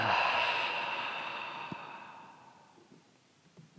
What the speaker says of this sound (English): Take a practice breath or two.